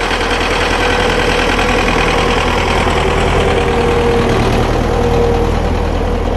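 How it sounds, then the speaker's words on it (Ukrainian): Tractor engine running steadily while clearing snow from residential private-sector streets, a loud continuous diesel rumble with a knocking idle character, close by and without voices. "Це не грейдера, а є трактора, які максимально намагаються пробити вулиці магістральні"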